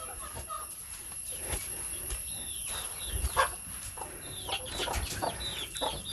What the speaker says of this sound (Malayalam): ഇതൊരു പൊരുന്ന കോഴിയാണ് പൊരുന്ന മാറാൻ വേണ്ടിയിട്ട് കമ്പിക്കൂട്ടിലിട്ടിരിക്കുകയാണ്